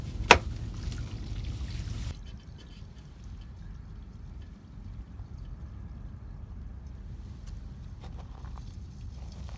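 Grey tank water flushes through an RV dump hose, starting with a louder gush and a sharp knock, then settling into a quieter, steady trickling flow.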